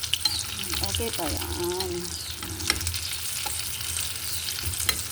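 Egg shanghai frying in hot oil gives a steady close sizzle with stirring and utensil clinks, while someone speaks briefly over it.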